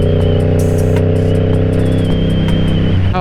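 A 2022 Yamaha YZF-R7 motorcycle with an aftermarket exhaust idling close by, a loud steady low-pitched drone with a faint metallic clatter and a brief change in engine note at the end.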